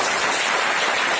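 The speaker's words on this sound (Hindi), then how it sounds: "तालियां।" Dense applause from an audience gathered at a meeting: a steady, full wash of many hands clapping together, loud and continuous with no voices above it.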